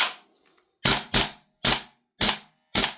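A Salvo Precision BRN-180 gas blowback airsoft rifle fires sharp, loud cracks in quick succession, six shots spaced by short pauses, with no talk over them.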